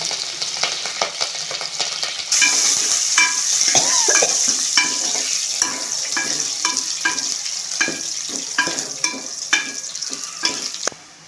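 Spices, garlic and curry leaves fry in hot oil for Rayalaseema country chicken curry, a loud continuous sizzle broken by repeated scraping stirs of a ladle in the pan, with no talking.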